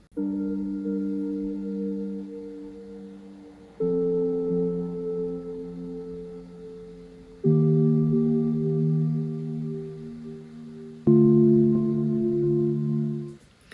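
Simple synth key chords from Arturia Pigments without arpeggiator, four sustained harmonic chords struck one after another at a steady pace, each swelling in and slowly fading, clean and alone.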